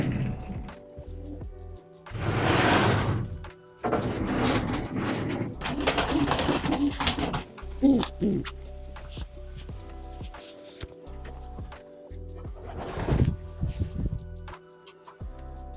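Racing pigeons in a breeding loft coo repeatedly in low, throaty bursts, close and fairly loud, with wing flaps and a few clattering knocks among the birds and short quiet gaps between calls.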